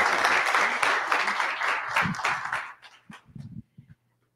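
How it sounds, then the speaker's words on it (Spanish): Brief applause from the audience at an international research meeting, a burst of clapping from a modest crowd that tapers into a few scattered claps and faint voices before stopping. "Un aplauso más bien y excelente"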